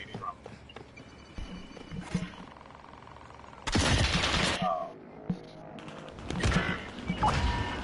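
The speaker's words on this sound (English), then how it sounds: "that whole place is getting shot up" Gunfire crackles in a battle royale video game: scattered shots, then a loud sustained burst of rapid fire lasting about a second, with more volleys a few seconds later.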